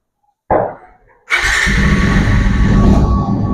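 A Bajaj Pulsar 125 motorcycle engine cranks briefly, cuts out, then catches and settles into a steady, close idle.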